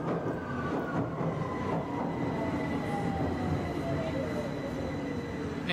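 A metro train rumbles steadily along the track, with low wheel noise, clattering and faint squealing tones sliding across the ride, heard from inside the car.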